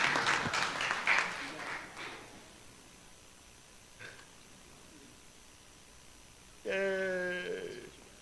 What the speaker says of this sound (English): Let's give our scholars a wonderful round of applause.